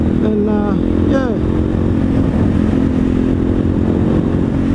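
SWM SD 650 X motorcycle ride on a fairly new bike heading onto light off-road dirt, a steady loud engine drone with a couple of brief rising whine notes early on, and someone talking over it.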